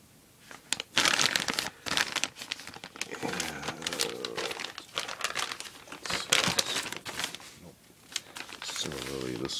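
A sealed plastic bag holding a rifle buttstock sub-assembly is handled up close, giving loud, continuous crinkling and rustling with sharp crackles, while someone talks over it.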